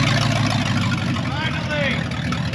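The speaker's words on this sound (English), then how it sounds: "Volga runs again. It's alive." A Volga car engine running after being restarted, heard as a steady, loud, low idle rumble that fills the whole moment without letup, with voices talking over it.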